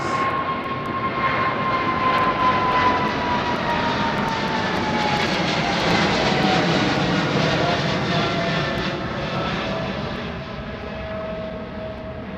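A fixed-wing aircraft on runway 09R at London Heathrow Airport roars steadily and loudly throughout, a continuous engine rumble with a faint whining tone gradually dropping in pitch, no voices present.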